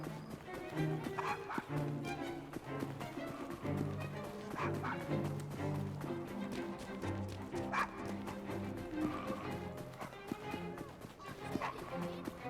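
A dog barks and yips in the video game Assassin's Creed Syndicate, the short barks mixed into steady background music that plays throughout.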